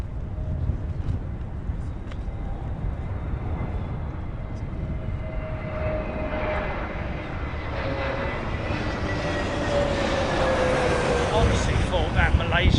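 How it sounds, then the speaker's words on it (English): A Malaysian airline jet's engines spool up as it powers up in severe storm winds, a steady broad roar with rising whine tones that swells louder toward the end, heard amid wind noise. "Honestly thought that Malaysian jet was going around, man."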